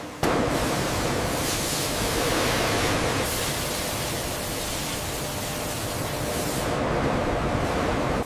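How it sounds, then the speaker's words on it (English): Water jets spray bananas in a packing and transport facility, producing a steady, loud, broadband hiss that holds evenly for several seconds. "Watch the third jet, it's spraying too wide."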